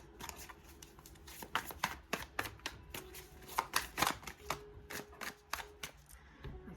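Tarot cards shuffled repeatedly by hand, a rapid series of crisp riffling flicks and snaps close up, with a low background hum throughout.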